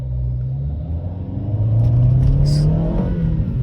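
A 2012 BMW 118i M Sport 2.0 Steptronic with an engine that keeps cutting out idles with a low rumble, then revs up midway and holds a higher drone before easing back, close and steady.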